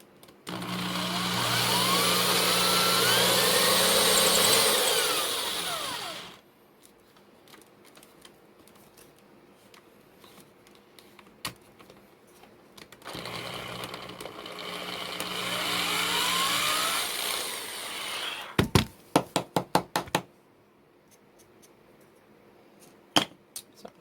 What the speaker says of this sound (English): I'm going to try to find the center and drill a hole in those as well